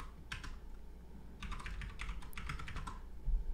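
Quick bursts of keystrokes rattle from a computer keyboard as a username is entered, close and clear, in two short clusters with a pause between.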